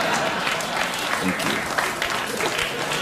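A late-night talk show studio audience applauds steadily for about three seconds, a dense, even clatter of clapping while someone speaks briefly over it.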